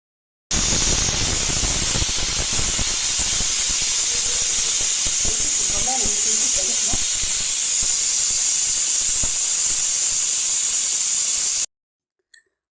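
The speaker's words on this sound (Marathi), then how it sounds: "आणि 3 शिट्ट्या घेतल्या कुकरला" A pressure cooker whistles and hisses steam while dal cooks, one sustained loud jet of steam running steadily for about eleven seconds before cutting off abruptly.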